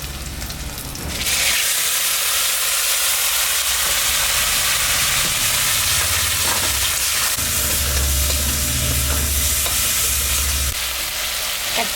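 Pasta fries loudly with onions in a hot pan, a broad hissing sizzle that surges as the pasta goes in and holds steady while it is stirred, with scraping passes and no talk.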